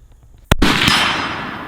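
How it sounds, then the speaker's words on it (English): A Winchester rifle fires outdoors: one sharp, loud crack followed by a broad, lingering rumble that slowly fades, with no talk. "let's shoot up these Winchesters and just see how far back we can get"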